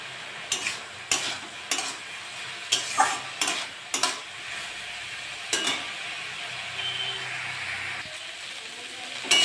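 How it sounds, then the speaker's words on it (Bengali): Red amaranth greens frying in a pan, a hissing sizzle with repeated scraping strokes of a spatula in quick bursts, then a calmer stretch of steady frying, close and without speech. "শাকটা আর একটু ভাজা ভাজা করবো।"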